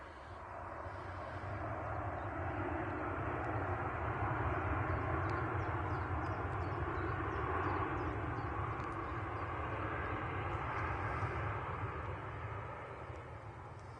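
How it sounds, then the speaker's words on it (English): A Ryanair Boeing 737-800 arriving at Manchester Airport makes a faint, distant jet roar that swells gradually, holds, then eases off near the end. "And it's a Ryanair 737-800"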